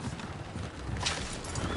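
Horses in the Red Dead video game run with a brisk clatter of hooves over a noisy rumble, fairly close and continuous, with no speech in the moment.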